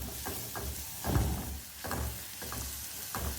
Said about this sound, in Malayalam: ഉള്ളിയും പച്ചമുളകും ഇട്ട് കൊടുക്കുക. നന്നായിട്ട് ഇളക്കി കൊടുക്കാം.